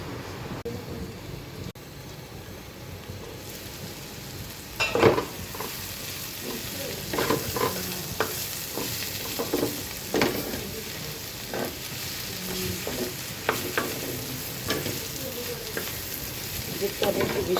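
Pumpkin pieces frying in a pan, a steady close sizzle broken by repeated scraping and stirring clatters throughout, with no voices.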